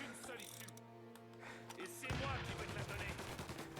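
Gunfire erupts in the Mafia video game, a dense burst of loud rapid shots and crackling impacts arriving suddenly after a stretch of humming in-game background sound.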